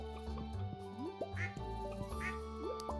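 Ducks quack in the farm game Stardew Valley, a few clear, close nasal calls repeating over a steady game music track, alone without talk.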